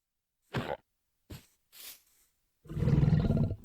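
A lion in the Minecraft Bedrock BiomeCraft add-on gives short, soft growls: two brief rumbles and a breathy one, then a longer, fuller growl, all close and alone with quiet gaps between.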